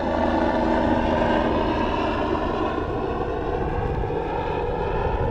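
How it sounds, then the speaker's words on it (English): Continuous loud droning rotor and engine noise of a helicopter passing overhead near an airport by an Alaskan swim beach, steady throughout with no voices. "Helicopter flying over."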